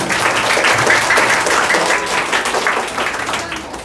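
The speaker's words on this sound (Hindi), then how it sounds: "कम से कम तालियों से इनका सम्मान।" Applause from an audience at a school Republic Day celebration, honouring the children, a dense sustained clapping from a crowd that stays steady throughout with faint voices mixed in.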